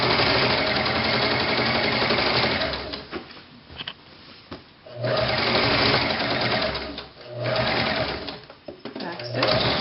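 Sewing machine stitching a ruffle onto denim pants, running in loud steady whirring bursts with brief pauses between, close to the microphone.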